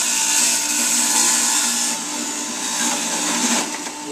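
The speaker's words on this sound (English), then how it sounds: "this is my new Jack of the Lane juicer, and it works a lot better" A Jack LaLanne juicer grinding cucumber, celery and other vegetables gives a steady, loud motor whir with a grinding hiss that shifts slightly as produce feeds through, with no voices.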